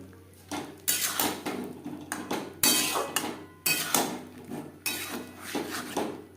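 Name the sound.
stirring fried potatoes and peas in a pan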